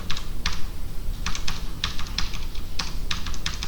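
Repeated key presses on a computer keyboard while holding Ctrl and tapping plus and minus, a run of sharp close clicks in uneven bursts with no talking.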